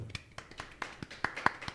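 A handful of scattered claps sound for a line, a few sharp separate hits spread over under two seconds, fairly quiet and sparse rather than a full round of applause.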